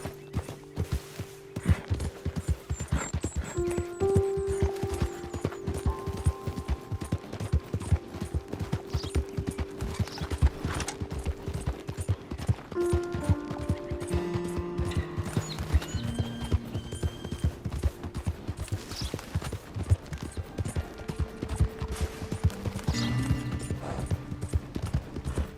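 In Red Dead Redemption II, a horse gallops steadily with rapid, rhythmic hoofbeats that continue loud and close throughout, with occasional neighs and game sound effects.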